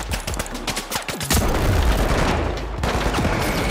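Rapid gunfire from a firefight in the video game The Finals, a dense burst of loud close shots and booms that runs almost continuously with brief staccato cracks, and no voices present.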